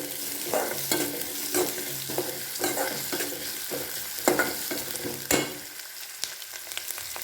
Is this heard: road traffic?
no